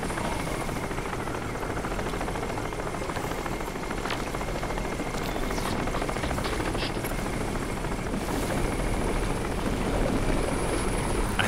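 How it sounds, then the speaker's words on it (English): A helicopter in the video game Crysis produces a continuous, loud rotor and engine drone throughout, steady and close overhead, with no voices over it. "I think I have to take care of that helicopter before we go anywhere."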